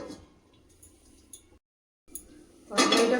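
A metal lid settles onto a cooking pot of oil-based koi fish curry (telkoi) simmering on low gas, giving light clinks amid soft kitchen clatter, then a brief pause and a louder rustling, clattering burst close by.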